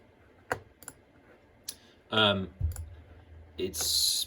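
Computer mouse clicking, several sharp, isolated clicks spaced irregularly and heard up close, with a few louder bursts of other sound between them.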